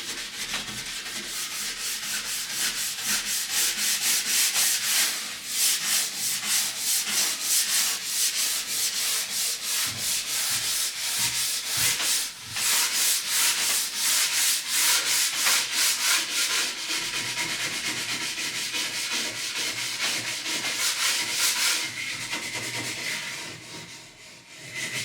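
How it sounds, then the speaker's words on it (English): Stiff brush scrubbing storage corrosion off steel ski edges, a steady close rasping rub that continues almost without pause, strokes blurring together, with no talk. "Take the opportunity to give the edges a bit of a brush."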